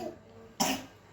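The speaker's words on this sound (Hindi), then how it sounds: "खांसी बहुत बार बार आ रही है" A single sharp cough from a person suffering a bad, frequent cough, rising abruptly after a moment of quiet room noise with faint murmur in the background.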